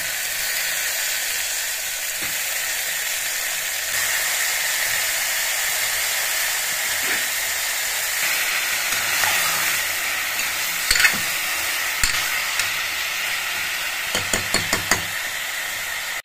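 Ridge gourd pieces with fenugreek leaves and turmeric frying in oil, steady sizzle and hiss under repeated stirring, with a few sharp knocks of the spoon against the pan near the end.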